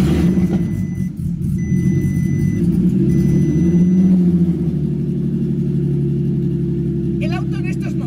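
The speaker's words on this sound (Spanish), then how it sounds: "El auto en estos momentos ha encendido" A Volkswagen Jetta MK6 fitted with a swapped 3.6 engine fires up and settles into a steady, loud low idle close by, with a brief high whine early and a voice talking near the end.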